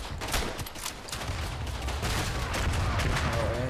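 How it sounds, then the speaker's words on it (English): Artillery shell explosions in a WW1 video game: a rapid run of sharp, booming bursts at moderate loudness, stacking into a steady rumbling barrage. "Oh, and this an artillery shell that got me."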